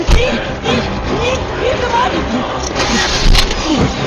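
A jeep engine starts and revs in a loud, continuous mechanical roar, with shouting voices and movement noise layered over it throughout.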